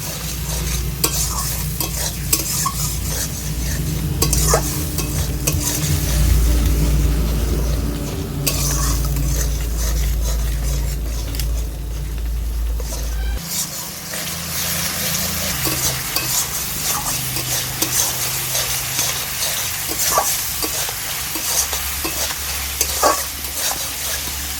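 A spice paste with chili powder and coriander powder, loosened with a little water, is stirred and fried in a pan. It sizzles continuously alongside scraping and clinking of the spoon for the whole stretch, with no talking.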